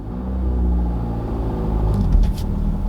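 A manual car pulls away once the clutch is released, a steady low engine rumble that builds slightly as the car starts moving, heard close from inside the cabin with no talking.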